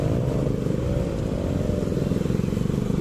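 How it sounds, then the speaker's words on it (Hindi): A Yamaha R15M motorcycle on a group ride revs hard under heavy throttle. Its engine drones loud and steady over constant wind rush, with no talking. "R15M वाले भाई साहब कितना तगड़ा थ्रोटल दे रहे हैं"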